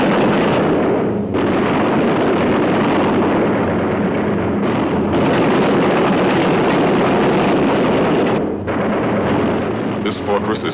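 Heavy flak explosions burst around a damaged B-17 Flying Fortress bomber with one engine on fire, a dense, loud rumbling roar with booming bursts and brief dips, over continuous engine drone.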